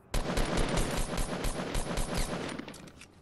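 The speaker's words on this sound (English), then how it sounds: "Okay, he's legit shooting." Rapid automatic gunfire from a Fortnite Battle Royale match, a loud continuous burst of shots in quick succession that runs for about three seconds before trailing off.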